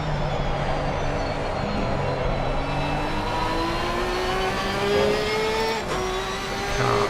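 Porsche race car engine in a PC racing game at the Hungary circuit, a loud continuous drone with rising gear-by-gear pitch sweeps and a brief shift dip near the end, steady and close throughout.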